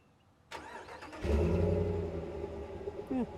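A 5.7 Hemi V8 RAM truck engine cranks and fires up, settling into a deep rumbling idle through a stock factory exhaust, close and loud, with a brief blip near the end.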